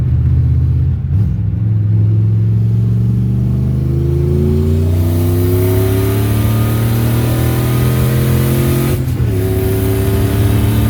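A turbocharged 2000 Ford Mustang engine revs loud and close, its pitch climbing steadily through a long pull, dropping briefly near the end, then rising again, with a hard mechanical drone throughout.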